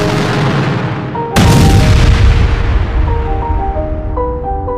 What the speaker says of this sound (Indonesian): Monorail itu pun jatuh ke bawah dan meledak bersama Ra's al Ghul.